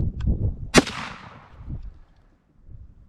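A single sharp rifle report from a Rossi rifle firing Remington UMC 125-grain .357 Magnum, with a loud crack and a ringing decay, preceded and followed by low rumbling handling noise.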